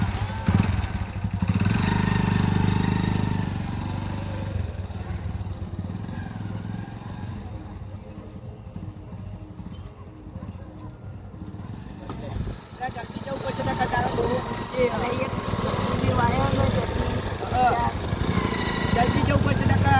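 A Hero motorcycle engine runs close by, a steady low rumble that idles and revs under almost continuous excited conversation between several people.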